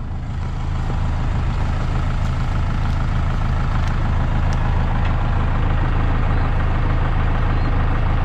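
A diesel tractor engine runs continuously at a steady idle, a loud, close, low rumble that holds constant without breaks.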